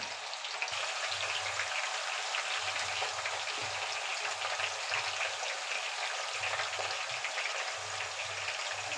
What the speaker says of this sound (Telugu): బంగాళదుంప ముక్కలన్నిటినీ డీప్ ఫ్రై చేయాలి